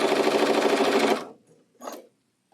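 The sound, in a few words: sewing machine stitching a quilt block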